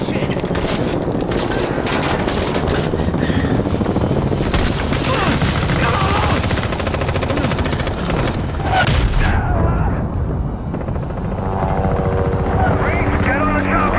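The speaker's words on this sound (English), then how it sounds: "Get on the chopper!" A helicopter in Call of Duty Modern Warfare DMZ thumps loudly and continuously amid bursts of automatic gunfire and heavy booms, with voices shouting over the din before the noise thins out.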